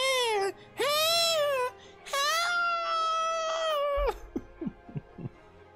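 Video game music composed to sound like a dying cat: long wailing, moaning tones rising and falling in three drawn-out phrases, followed by a few short plucked or clipped notes, with no talking.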